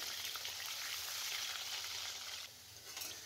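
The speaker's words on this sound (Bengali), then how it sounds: "এবার একটু নাড়াচাড়া করে নেব, নিয়ে এর মধ্যে দিয়ে দেব আলুগুলো একটু আমি ভেজে নেব।" Potatoes fry in a pan with panch phoron and bay leaves, making a bright, dense sizzle that stays loud, drops off sharply near the end, then flares briefly again.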